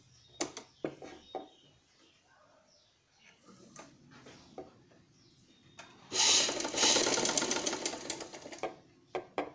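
A sewing machine stitching trouser fabric gives a few short bursts at first, then a sustained loud run of stitching near the end, with light handling clatter in between.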